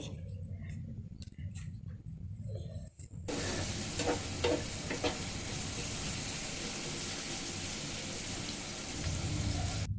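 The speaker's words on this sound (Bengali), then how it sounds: "এটা বেরেস্তা হওয়া পর্যন্ত আমাকে নেড়ে নিতে হবে" Onions are stirred and fried in soybean oil until golden. After a quieter opening, a loud continuous sizzle kicks in, punctuated by clicking, scraping strokes of the spatula against the pan.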